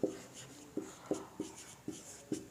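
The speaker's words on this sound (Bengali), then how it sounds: "আমি এখানে ছোট্ট করে লিখে দিচ্ছি" A teacher handwriting a short note during a lesson, giving a series of close, distinct tapping and scratching strokes spaced irregularly, quiet otherwise.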